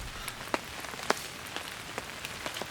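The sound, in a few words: heavy rain falling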